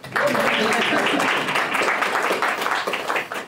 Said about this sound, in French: Allez-y, applaudissez